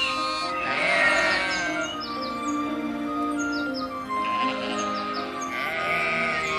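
Sheep bleat repeatedly in a mountain grazing setting, loud and close, with several overlapping wavering calls and bird chirps in the background.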